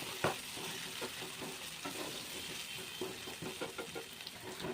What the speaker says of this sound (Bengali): এবার মশলাটা বেশ কিছুক্ষণ ধরে কষাতে হবে।